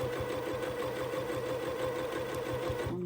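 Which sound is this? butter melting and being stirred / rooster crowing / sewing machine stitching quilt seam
sewing machine stitching quilt seam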